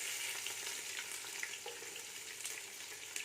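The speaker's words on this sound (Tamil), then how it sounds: "சட்டக்கிராம்பு ஏலக்காயெல்லாம் பொறிஞ்சிடுச்சு" Cinnamon, cloves and cardamom fry in hot oil for a chicken biryani, giving a steady close crackling sizzle with small pops throughout, no voices.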